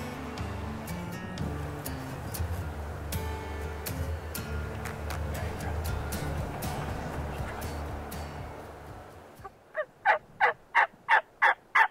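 An Osceola wild turkey gobbles in a rapid rattling string of six or seven pulses on a Florida hunt near Daytona Beach, coming in clearly after a stretch of background noise and murmured voices.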